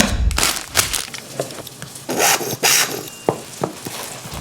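A knife draws through a rested steak in quick, uneven strokes, giving close, dry scraping and tapping against a cutting board, with no talking.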